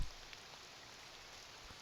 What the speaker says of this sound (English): Why are you standing out here in the rain?